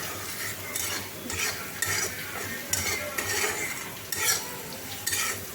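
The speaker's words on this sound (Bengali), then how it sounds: "এগুলো আবার ভালো করে নেড়ে নিচ্ছি" Garlic and onion fry with salt in a pan, stirred in a steady rhythm of scraping strokes over a constant close sizzle, with no voices.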